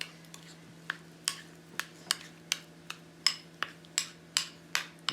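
A spoon clacks against a bowl while yogurt and stevia are mixed, giving about a dozen sharp, evenly spaced taps over a faint steady hum.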